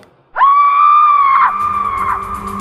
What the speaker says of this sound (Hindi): एक बड़ी ही दर्दनाक चीख मेरे कानों पर आ पड़ी।